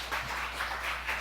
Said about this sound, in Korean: 자, 할렐루야로 우리 박수로 환영합시다.